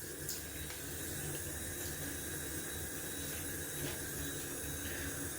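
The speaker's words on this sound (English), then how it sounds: "I'm gonna add some cold water to the face." Cold tap water runs steadily into a sink during a wet shave, a soft continuous splashing hiss that stays even throughout, fairly quiet and close.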